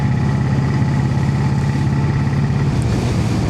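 A Brough Superior motorcycle in top gear at low revs, around 1500 RPM, giving a loud, steady, close-up engine chug with an even pulsing beat throughout.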